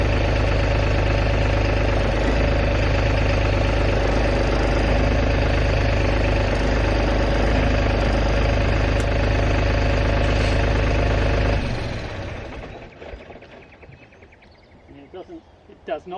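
A tractor engine runs loud and steady at low idle while creeping gently forward on a slope, a deep continuous drone that cuts out and fades near the end, leaving faint rustles.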